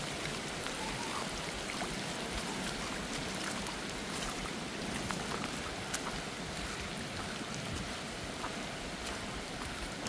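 Rain falls outdoors in a continuous broadband hiss of drops striking surfaces, steady and enveloping throughout with no voices or distinct events.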